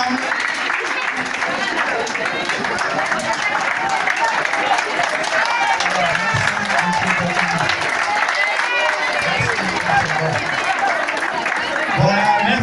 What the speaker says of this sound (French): nous nous levons et nous l'applaudissons